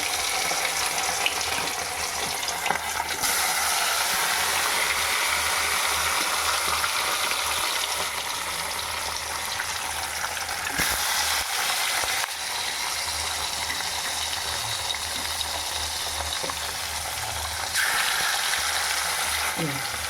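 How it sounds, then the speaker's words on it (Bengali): Fish fries in hot oil in a pan on a home stove, giving a long, continuous loud sizzle and crackle with occasional clinks of a spatula. "দেখো তেল গরম হয়ে গেছে এবার আমি মাছ ছেড়ে দেবো"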